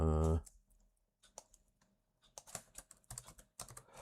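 Bursts of typing on a computer keyboard, with irregular clusters of key clicks and short pauses between them, fairly close and clear, following a brief loud thump at the start, with no talking.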